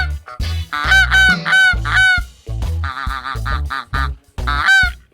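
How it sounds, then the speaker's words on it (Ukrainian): A goose honks repeatedly at close range, a loud run of harsh, nasal calls in quick uneven bursts with short gaps, heard alone. "То є гуска."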